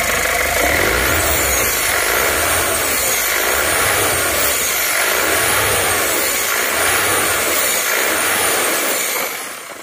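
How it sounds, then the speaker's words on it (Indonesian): A car engine that runs rough and misfires at speed, warmed up and then held at about 2000 rpm, drones loudly and steadily with a rhythmic pulsing wobble throughout and a slight drop at the end. "Setelah panas nanti akan kita gas-gas. Kita gas 2000."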